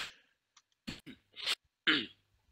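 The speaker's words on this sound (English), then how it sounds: "sorry if I'm coughing through this, by the way" A person coughs and clears their throat in a few short, separate bursts, close to the mic, with quiet pauses between them.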